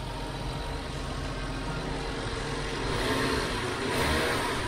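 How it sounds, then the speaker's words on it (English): A Toyota Chaser Tourer V JZX100 engine, which has a stalling fault, idles steadily with a low rumble, then revs up louder toward the end before settling. "The car is running!"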